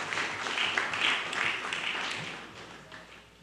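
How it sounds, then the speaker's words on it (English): A crowd at a county board ceremony applauds to welcome a high school's state champion team to the podium, giving a dense, steady clapping that gradually tapers off over a few seconds. "please welcome them with a round of applause"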